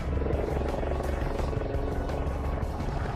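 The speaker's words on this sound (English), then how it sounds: "helicopter doesn't fly. It beats the air into submission." Helicopter rotor blades beating the air with a steady, rapid chopping pulse over a continuous dense engine roar, loud and close throughout without a break.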